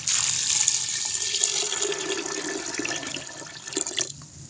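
Water runs and splashes steadily into a vessel, a continuous pouring rush that holds fairly even before tapering near the end.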